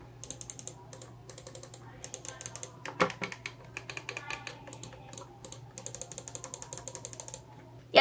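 Quick bursts of small clicks and ratcheting ticks from a Rampage X Jammer gaming mouse, in short clustered runs with pauses, close and fairly quiet, ending in a sharper click.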